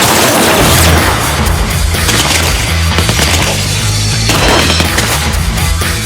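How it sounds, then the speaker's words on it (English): Thompson submachine gun, the 1920s Chicago gangster weapon, firing at close range: loud, dense automatic bursts with heavy booming reports that run almost continuously, with no speech. "The Thompson machine gun"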